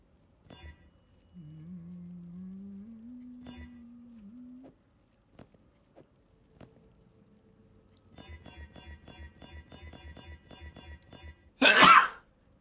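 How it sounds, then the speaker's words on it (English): A single sharp sneeze bursts out loudly near the end, preceded by quiet scattered tones, a hum and low clicking. "I keep sneezing, man."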